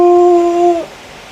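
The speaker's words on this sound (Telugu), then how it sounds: "కుక్కు తల్లి కుక్కు పిల్ల కుక్కు" A single sustained, steady-pitched dog howl or whimpering whine, close and loud, holding for under a second before cutting off into quiet.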